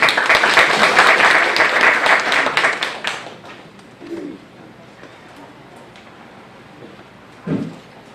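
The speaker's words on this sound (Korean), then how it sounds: "박수로 맞이해 주십시오." An audience at a North Korea talk concert at Camp Greaves in Paju claps loudly to welcome a lecturer, a dense burst of applause that fades out after about three seconds, followed by quiet room noise and a couple of soft thuds.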